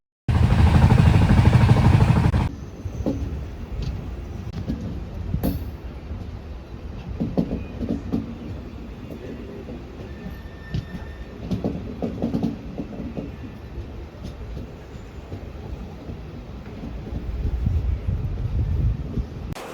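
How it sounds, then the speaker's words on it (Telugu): Express train running at high speed, around 130 km/h, heard from inside as a steady rumble and rattle of the carriage, with a louder roaring burst at the start and intermittent clanks. "ఇదైతే వందే భారత్ రేంజ్ లో అయితే పోనిస్తుంది ఈ ట్రైన్ అయితే"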